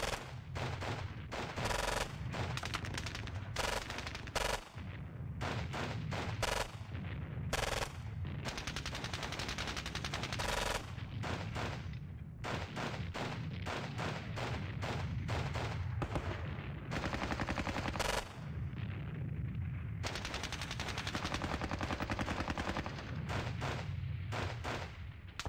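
Sustained gunfire from the wargame Squad Battles: Red Victory, set at Ponyri: dense bursts of rifle and machine-gun shots with heavier artillery-like booms, rapid irregular volleys over about twenty-five seconds with brief gaps.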